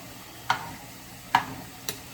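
A utensil knocks three times against a pot of Jamaican chicken and red peas stew while it is stirred, sharp close taps spaced unevenly over a quiet background.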